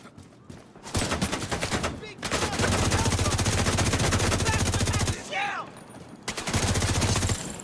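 Rapid bursts of automatic gunfire fill a firefight in the video game The Division 2, loud and near with brief gaps, while players shout and talk over the shooting.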